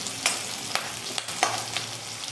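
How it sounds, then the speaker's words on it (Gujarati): Garlic cloves sizzle in a pan of hot oil, a constant crackling hiss with a few clear stirring knocks and scrapes up close. "હવે તેમાં લસણની કળીઓ પણ નાખી દઈશું આપણે."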